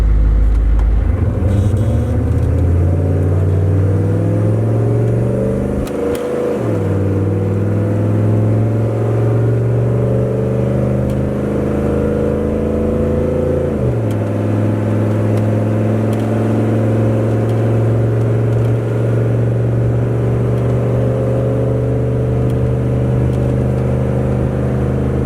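A Chevrolet K3500 diesel pickup with a new 4-inch exhaust accelerates from 0 to 60, its loud, close engine drone climbing through gears with two distinct shift dips, heard from inside.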